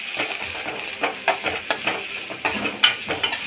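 Chopped onions and green chillies fry in a pan for egg bhurji, a steady sizzle broken by repeated scraping stirs and light clinks of the spoon against the pan, close and fairly loud, with no talking.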